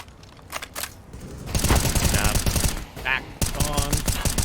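Rapid bursts of gunfire in a Counter-Strike match on the Overpass map at a Fragadelphia tournament grand final, dense crackling shots in quick volleys, heard under a caster's commentary.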